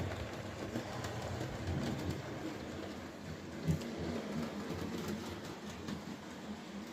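A Hornby Locomotion No1 model train runs around its track with a steady, soft rolling rumble and faint rail clicks. The sound holds at an even, low level with no speech.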